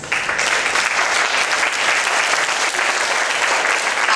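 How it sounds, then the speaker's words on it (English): Steady, loud applause from a seated academic audience after conference speakers on transpacific visual culture, many hands clapping in a dense unbroken wash. "So I think we should applaud our speakers."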